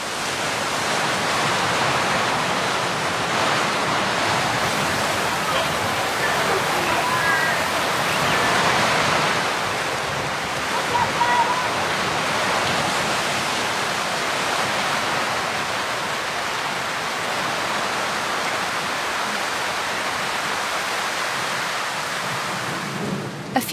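Heavy rain pours down along the Rio Frio near the Nicaragua border in a steady, dense roar that fills the scene without letup, broad and close, with no voices.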